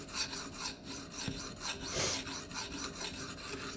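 A steel blade is drawn across a Venev sharpening stone in repeated rasping strokes, a steady back-and-forth grinding rhythm heard up close with no talking.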